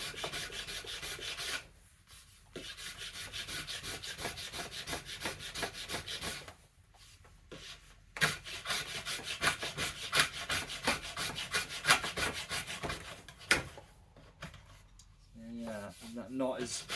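A rasp files the belly of a yew bow stave around a stubborn knot, giving loud, steady strokes in several long runs broken by short pauses.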